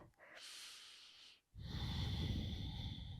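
Slow, audible breaths during a standing yoga hold, one long steady exhale followed by a fuller, noisier breath, close and fairly quiet with no talking.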